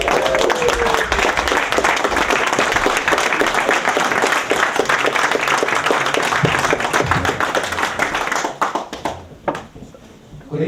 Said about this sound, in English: If everyone would like to give him a round of applause,